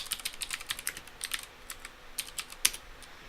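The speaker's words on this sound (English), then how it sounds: "then I'm gonna type it here, import ArcPy." Quick, light keystrokes on a computer keyboard while entering Python code during ArcGIS Pro lidar analysis, clicking in an irregular close-up rhythm with one louder key strike near the end and no talking.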